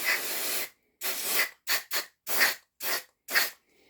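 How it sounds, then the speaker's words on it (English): Six short bursts of aerosol cleaner spray hiss onto a dirty MAF sensor of a Toyota Celica 1ZZ-FE engine, close and loud, with brief pauses between each blast. "let's just give it a bit of a spray"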